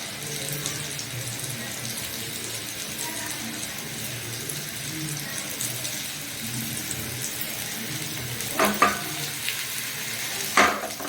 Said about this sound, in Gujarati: આ રીતે હલાવતા જવાનું અને એને સેલો ફ્રાય કરતા જવાનું છે।